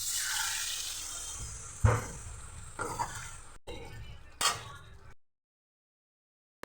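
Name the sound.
pouring water into a cooking pot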